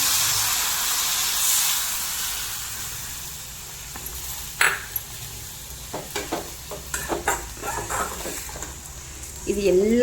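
Water poured into a hot pan while cooking lunch sets off a broad, steady steaming hiss and sizzle, with scattered stirring clatter and short bursts of activity toward the end.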